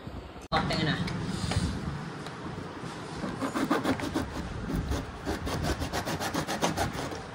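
A hand saw whose blade is wrapped in cloth cuts a plastic mudguard, making steady, loud rasping strokes that build into a fast rhythmic back-and-forth, with a voice heard over the sawing.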